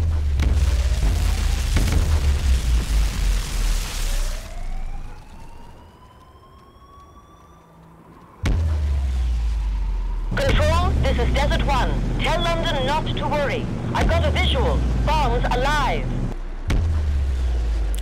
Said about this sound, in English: apparently explosions sound like that slow-motion bass boost noise on the last level